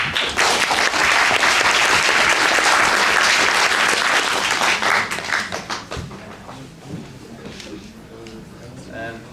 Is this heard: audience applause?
yes